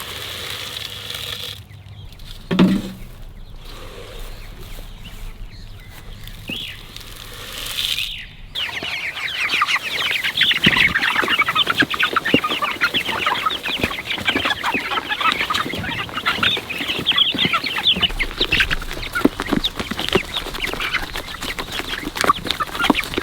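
Chickens cluck in a dense, busy chorus that builds after a few scattered quieter sounds, continuous and close, with occasional wing flaps.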